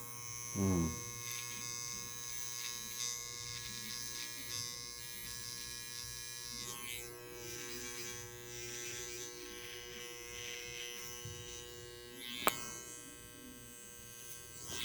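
An electric hair clipper drones in a steady, quiet buzz with a constant mains-like hum throughout, at moderate distance with no one speaking over it.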